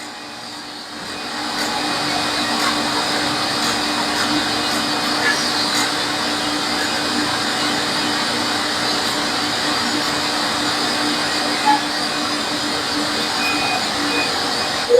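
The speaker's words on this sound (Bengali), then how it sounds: "এখানে এটাকে কয়লার মেশিন বলে, তো এটাতে কয়েল করা হইতেছে, এভাবে কয়েল করা হয়।" An automated factory machine coiling plastic pipe runs with a loud, steady mechanical drone and whir that holds evenly throughout, with faint ticks underneath.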